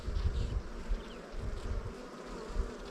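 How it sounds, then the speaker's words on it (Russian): Honeybees hum around an open hive during a colony inspection, a low continuous buzz with faint rises and dips, close and fairly quiet, with no talk. "Пчела выходит."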